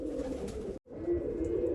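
Female pigeons of the pure Kake Kile breed coo close by in a continuous throaty murmur, cut by one brief gap before the cooing resumes.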